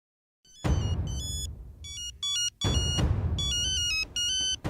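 A telephone rings in a Marathi TV serial scene. Repeated bursts of bright electronic ringtone tones alternate with a low rumble, fairly loud and with no talking over them.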